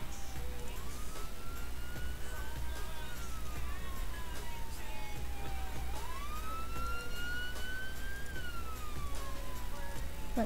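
A fire engine siren in the Roblox game ER:LC wails in slow rising and falling sweeps over a low engine rumble, steady and fairly close, with no talk.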